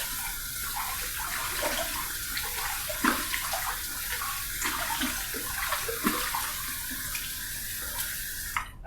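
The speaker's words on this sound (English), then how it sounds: "let's go ahead and wet the face with some of this cold water" Cold water from a tap runs and splashes as a face is wetted before shaving, a steady close hiss with small irregular splashes and no talk.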